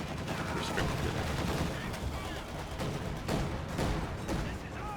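A Sd.Kfz. 222 armored car's autocannon fires at range in a Company of Heroes 2 battle, with dense, overlapping gunfire and explosions that fill the mix throughout while a commentator talks over it.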